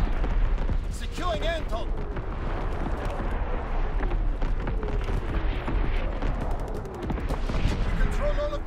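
Mortar rounds and artillery fire in the PS4 multiplayer game Call of Duty WW2 as a series of booming blasts and crackling gunfire over a constant battle rumble, with a voice speaking briefly over it.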